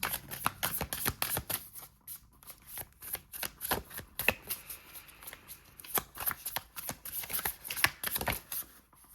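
A deck of Dream Oracle cards is shuffled by hand, with rapid riffling bursts and flicks repeating throughout, close and crisp with no talking.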